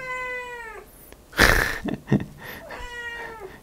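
A cat indoors gives two drawn-out, fairly loud meows, with shuffling and handling noises in between.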